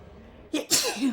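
A single close, sharp human sneeze with a brief intake beforehand, loud and abrupt in a quiet room.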